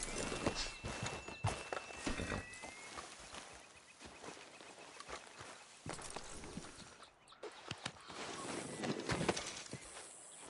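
Unhurried clip-clop of a horse's hooves walking in Red Dead Redemption 2, quiet and irregular on soft ground with occasional brief birdsong and light ambient outdoor noise.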